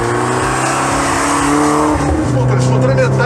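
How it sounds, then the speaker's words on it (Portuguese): Porsche 944 four-cylinder engine, half of the 928 V8, droning steadily from inside the car with a smooth, vibration-free tone and a slight rise in pitch midway as it pulls. "O barulho é de 4 cilindros realmente, mas é muito legal"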